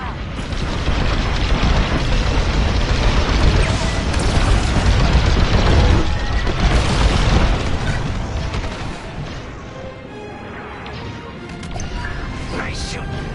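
A Gozanti cruiser blows apart in Star Wars Squadrons space combat, heavy booming explosions rumbling loud and continuous, easing slightly toward the end.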